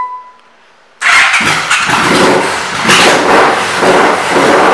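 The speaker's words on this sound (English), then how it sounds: "Let's fire it up for you." A 1996 Yamaha Royalstar Tour Classic motorcycle starts after a short quiet pause, its engine catching abruptly into a loud, steady, rumbling idle with small surges in revs, close by and alone.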